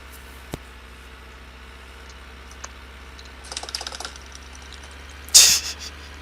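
Keys clatter on a computer keyboard during a Farming Simulator 15 session: sparse single taps, then a quick burst of keystrokes and one louder, sharper clack near the end, against a low steady hum.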